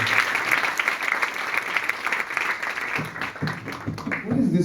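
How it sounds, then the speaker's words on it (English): Audience applause at a school demo day fills the room, continuous and fairly loud clapping, with a few voices mixed in toward the end. "Big applause, please."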